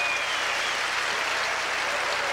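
US Open tennis crowd applauding a point in a match between Vinciguerra and Agassi, a brief burst of dense, even clapping that stays steady throughout and sounds fairly distant.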